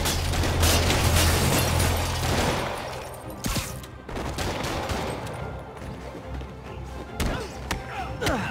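Gunfire in the video game Marvel's Spider-Man Remastered: rapid, loud shots and thuds in a dense burst at the start, then scattered bangs and impacts with a busy game soundtrack underneath.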